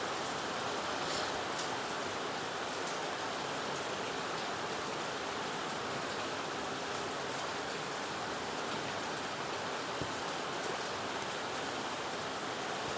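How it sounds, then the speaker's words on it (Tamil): Heavy rain pours down steadily for the whole stretch, a dense, even hiss of water with no pauses and no voices. "இங்கே செம மழை பெய்யுது."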